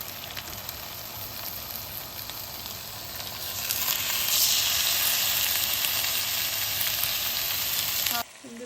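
Washed chicken fries in a spice paste with a steady hissing sizzle that swells noticeably partway through, loud and close, then cuts off abruptly near the end.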